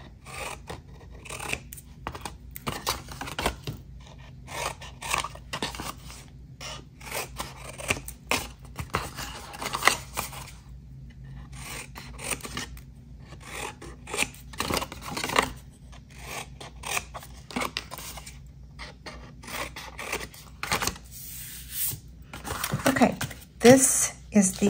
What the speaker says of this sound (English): So I'm going to angle cut these.